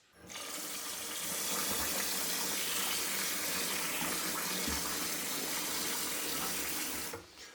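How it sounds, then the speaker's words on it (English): Tap water running steadily into a kitchen sink while rice is rinsed under it, a close, continuous hiss that starts abruptly, holds for about seven seconds and then cuts off. "We have to rinse the rice."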